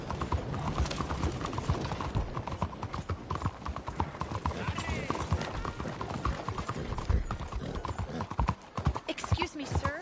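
Horse hooves clip-clopping steadily at a gallop in Red Dead Redemption 2, rhythmic and continuous throughout, with a voice calling out over the hoofbeats.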